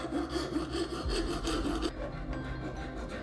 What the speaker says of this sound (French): Nous avons lissé les extrémités avec une lime.